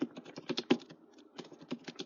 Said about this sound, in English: just typing it in right now.